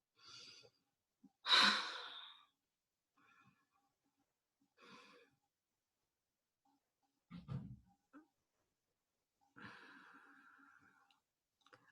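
Slow, soft breaths during a guided meditation, several separate inhales and exhales with long silent gaps between them, one fuller sigh near the start.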